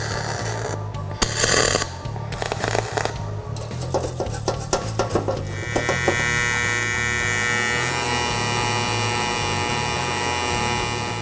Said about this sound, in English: And now I'm gonna tack weld the top shelf in.